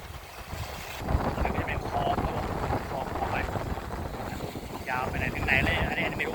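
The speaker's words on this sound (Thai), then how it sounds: "ลมแรงเลยนะ" Strong wind buffets the microphone aboard a small coastal fishing boat at sea, a loud continuous roaring rumble with engine and water noise underneath, while someone talks over it.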